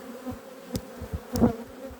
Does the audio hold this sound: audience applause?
no